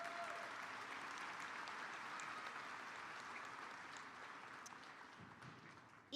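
A graduation crowd at a county high school ceremony claps together in a long, steady burst of applause that stays even for several seconds before tapering slightly, heard from a distance and fairly faint.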